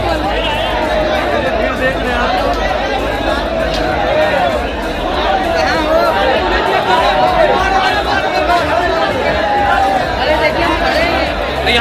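Dense crowd of pilgrims on the Panchkosi Yatra in Banaras, heading toward Bhimchandi, fills the air with steady, loud overlapping chatter and babble, close and continuous throughout.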